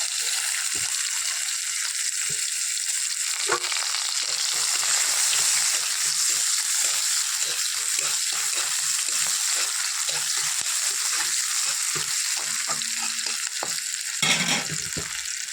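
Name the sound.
green chilies, cumin seeds and chopped onion frying in pan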